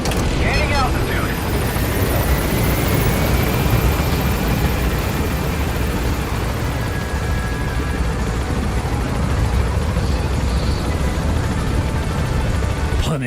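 Helicopter climbing in the video game Metal Gear Solid V, a dense continuous rotor roar and rumble that stays loud and steady throughout.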